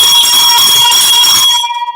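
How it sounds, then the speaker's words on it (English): Boxing ring bell ringing with a loud, sustained metallic tone that holds for about a second and a half before quickly fading out. "There goes the bell."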